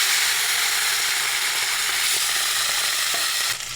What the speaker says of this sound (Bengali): তেল গরম হয়ে গেছে, মাছ দিচ্ছি।